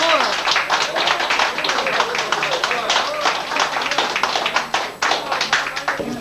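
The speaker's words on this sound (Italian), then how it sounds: "Un bel applauso!" A studio audience at an Italian television show from 1989 claps in steady, dense applause for several seconds, with a voice talking loudly over the clapping throughout.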